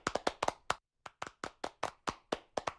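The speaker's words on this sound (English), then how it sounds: "One round of applause, ladies and gentlemen, for Mr. Nicolas Amar." Hand claps at a symposium on human-centric artificial intelligence: sharp, close, quiet individual claps in a steady rhythm with one brief pause, sounding like only a few people.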